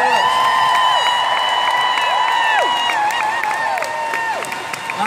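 Audience applause and cheering for the crew at a concert in Glasgow's SSE Hydro Arena, a steady, loud crowd roar lasting throughout, with sustained musical tones ringing over it.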